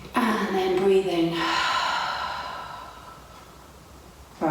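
A deep breath pushed out through the mouth during a guided breathing exercise, a long breathy exhale lasting a few seconds, close and clear, fading gradually at the end.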